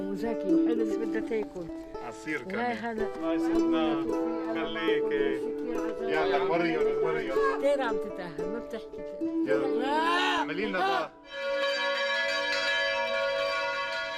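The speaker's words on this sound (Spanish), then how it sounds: "El sonido de las campanas sigue siendo una llamada a la esperanza en este barrio cristiano" Church bells in a Christian neighbourhood in Lebanon ring in overlapping, resonant peals, loud and continuous, with a voice speaking over them partway through before the clanging resumes.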